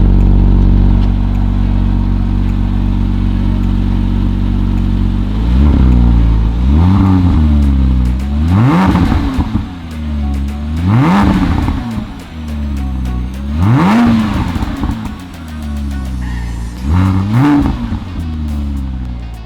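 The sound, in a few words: car engine revving with stock exhaust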